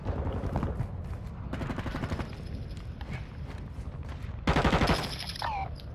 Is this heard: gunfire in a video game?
yes